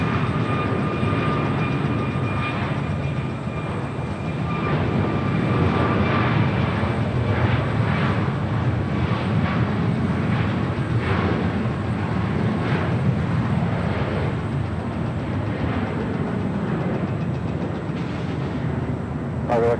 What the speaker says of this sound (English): American 1976, Heavy 747 will depart the inboard runway